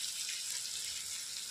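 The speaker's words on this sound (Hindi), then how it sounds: "थोड़ा सा पानी, क्योंकि मसाला जलेगा नहीं।" Water poured into frying masala with browned onion for a kachori sabji, giving a steady, close hiss and sizzle that holds evenly throughout without any talk.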